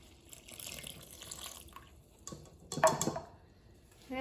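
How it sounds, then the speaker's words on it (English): Water is poured into a well of flour and soft butter for bagel dough, a soft trickle with a brief louder splashing burst near the middle before it tapers off. "Pour my water in."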